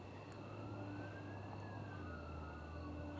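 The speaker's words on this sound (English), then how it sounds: "I hear sirens." A faint, distant siren wails slowly up and down beneath a steady low hum of background noise.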